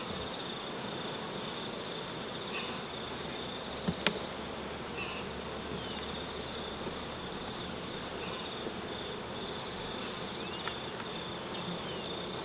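Honeybees humming steadily at an open hive during a frame inspection, a dense continuous buzz of many insects nearby with a few brief louder passes close by.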